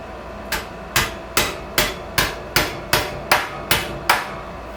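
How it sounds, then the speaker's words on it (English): A weight used as a hammer strikes a chicken coop nesting box, ten sharp evenly spaced knocks at a steady rhythm, close and clear with no talking. "I need to try and hammer that back down."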